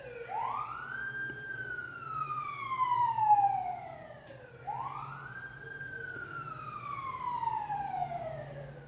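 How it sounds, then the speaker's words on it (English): A siren wails in long rising and falling sweeps, two full cycles, fairly close and steady with a low road rumble beneath. "Pardon the siren"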